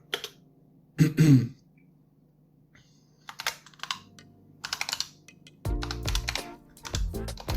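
Someone types a DOSBox mount command on a computer keyboard: short bursts of close, crisp keystrokes, the clatter growing busier toward the end, with a throat clearing near the start in an otherwise quiet room.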